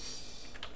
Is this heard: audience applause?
no